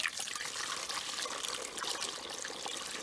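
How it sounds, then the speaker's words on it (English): Garlic liquid is poured from a saucepan into a plastic bottle, a close, steady trickling and gurgling stream lasting a few seconds without speech. "just pouring the garlic liquid now into a plastic bottle"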